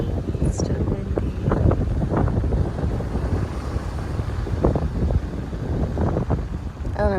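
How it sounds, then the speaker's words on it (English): Gusty wind roars continuously against the microphone outdoors at a campsite in the Florida Keys, with indistinct talking partly buried underneath. "So it's gonna be windy all day again."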